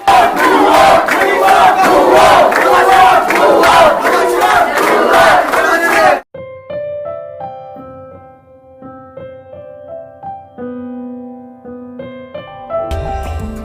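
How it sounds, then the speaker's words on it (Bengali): Protesting students at Haji Azgar Ali High School chant slogans together, loudly and rhythmically, demanding the headmaster's resignation; the chanting fills the first six seconds and is then cut off by music. "এক দপা এক দাবি আলী স্যারের পদত্যাগ বলে স্লোগান দিতে থাকে বিক্ষুব্ধ শিক্ষার্থীরা"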